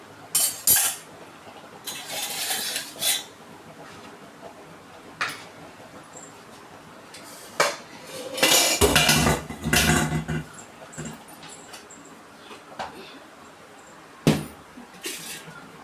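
Cooked rice drained from a pot, with several bursts of pouring water and splashing at intervals alongside clinks of metal utensils against the pot.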